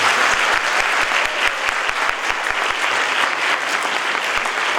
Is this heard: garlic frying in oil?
no